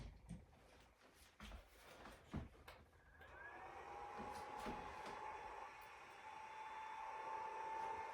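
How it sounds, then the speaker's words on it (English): Portable electric clothes-drying bag is handled with a few clicks and rustles, then its fan starts and settles into a steady blowing whir that continues, faint and close, without talk. "when you press this, this is gonna start the drying. So it's like having a dryer in a bag."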